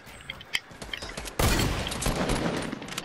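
Gunfire in the video game Fortnite: a few sharp isolated shots, then a dense, loud burst of rapid fire that continues to the end, with faint voices underneath.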